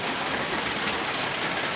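Steady rain falling at a coal kiln pit in Runaway Bay, St Ann, Jamaica, a dense, even hiss of drops on surfaces that stays close and constant throughout, with no voices.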